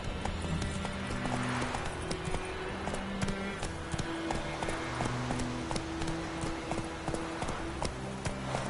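Rapid, continuous clip-clop of a horse galloping in The Witcher 3 video game, hoofbeats close and steady over a dense game soundscape.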